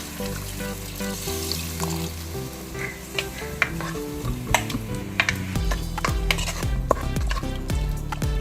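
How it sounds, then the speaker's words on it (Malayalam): Water poured into prawn curry cooking in a pan, a loud steady sizzle and bubbling with scattered clinks and stirring knocks, no talk. "ഇതിലേക്ക് അര കപ്പ് പച്ചവെള്ളം ചേർക്കാം"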